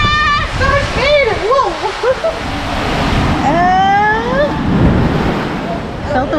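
Rushing, splashing water on a water coaster tube ride at a water park, steady and close throughout, with excited voices shouting and whooping over it.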